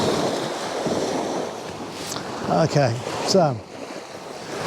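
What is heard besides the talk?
ocean surf breaking on the shore in the rain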